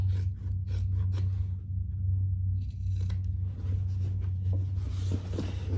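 Scissors snip through the fabric seam and corners of a sewn curved handbag in a series of close, crisp cuts with short pauses between them over a low background hum.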